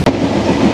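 Simanta Express passenger train rolling into a station in Bangladesh, a loud steady rumble of wheels and carriages with a brief sharp click at the start, no voices.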